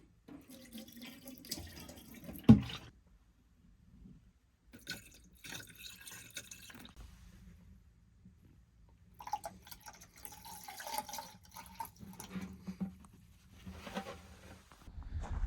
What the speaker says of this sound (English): whatever you got left over, just pour a little down the drain, just for some added protection